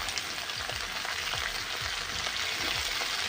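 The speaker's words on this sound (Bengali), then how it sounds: "আর কড়াতে তেল গরম করতে দিয়েছি এগুলো ফুলকপিগুলো কেটে ধোয়াও হয়ে গেছে এবার ভাজতে দিয়ে দেব" Cauliflower pieces frying in hot oil in a kadai, with a dense, continuous crackling sizzle and small stirring scrapes, loud and close with no voices.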